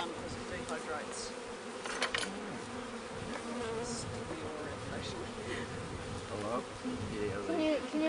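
Bees swarming around an open hive during a beekeeping field day, a dense close buzzing drone that rises and falls continuously, with faint voices now and then.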